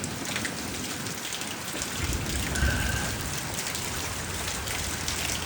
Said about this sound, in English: My truck doesn't get nailed too bad with the hail.